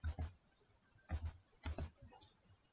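Three quick clusters of soft keystrokes on a computer keyboard, with short pauses between them, as someone types cmd; the clicks are faint and close, with no other sound around them.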